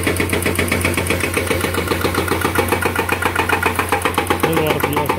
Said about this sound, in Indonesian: mesin hydraulic breaker ini digerakkan oleh tenaga diesel ya